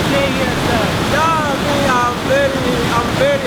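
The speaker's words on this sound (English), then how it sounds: "This is a very gigantic waterfall." The huge Victoria Falls near Livingstone, Zambia, roars in a dense, constant wash of falling water, loud and close, with voices and sung tones rising over it.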